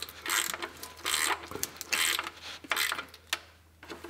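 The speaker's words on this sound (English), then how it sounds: "So we'll tighten this bolt down on this side." A ratchet tightens a transmission pan bolt in several short, close, rapid clicking bursts separated by brief pauses.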